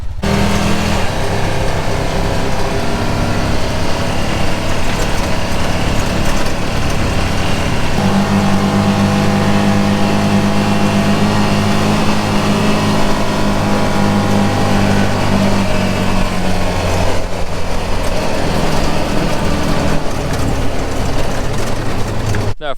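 A Honda Pioneer 700cc utility vehicle driving, its engine giving a steady, loud drone with shifting revs that runs without a break the whole time.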